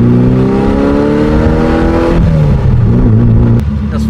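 A loud 1971 Austin-Healey Sprite Mk IV engine revs and drones close by while driving, its pitch rising and then dropping as the throttle changes.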